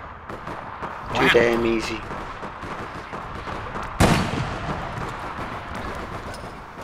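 Gunfire in the online game APB Reloaded: a couple of sharp shot bursts, one near the start and a louder crack midway, over a steady game backdrop while someone talks.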